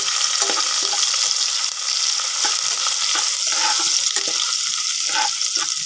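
Green chili, ginger and curry leaves hit the hot ghee tempering for ven pongal, setting off a loud, steady sizzle with scattered crackles and pops.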